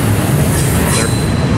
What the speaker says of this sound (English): here comes an auto rack and a couple DBUs shoving this stack up out of the loop here